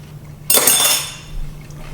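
A single bright metallic clink of a spoon against a dish while tasting tabbouleh salad, close and sharp, ringing out briefly before a soft rustle.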